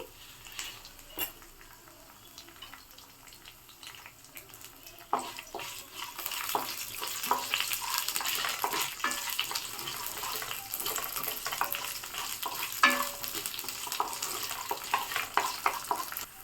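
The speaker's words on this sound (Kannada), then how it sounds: "1/4 ಟೀ ಸ್ಪೂನ್ ಆಗೋಷ್ಟು ಜೀರಿಗೆ ಹಾಕ್ಕೊಂಡು ಲೋ ಫ್ಲೇಮಲ್ಲಿ ಇಟ್ಕೊಂಡು ಫ್ರೈ ಮಾಡ್ಕೊಳ್ಳಿ" Ginger pieces and cumin seeds fry on a low flame for vegetable pulao, starting as a quiet hiss and turning into a fuller, steady sizzle with scattered crackles and pops.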